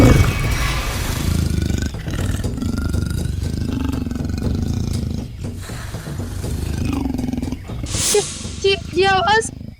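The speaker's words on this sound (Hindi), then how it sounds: "तेंदुए के गुर्राने की आवाज है।" Leopard growling in a red forest, a low rumbling growl running under dense, tense ambience, with a sharper snarling burst near the end.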